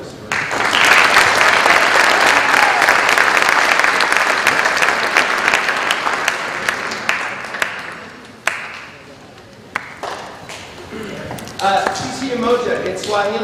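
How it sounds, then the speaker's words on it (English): Audience applause for a performer at a winter arts night, loud and dense for about eight seconds, then thinning and fading as scattered claps trail off and a voice begins speaking near the end. "So round of applause for Christopher"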